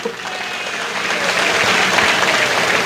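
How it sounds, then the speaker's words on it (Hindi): A large crowd at a political speech applauds steadily, the clapping swelling slightly and holding dense and loud throughout. "उनके नाम की जरा एक ताली लगाएं"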